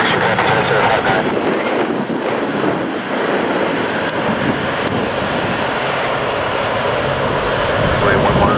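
Four F-15 fighter jets from Lakenheath depart RAF Mildenhall with a loud, continuous broadband jet roar that stays heavy and steady throughout, buffeted by some wind noise.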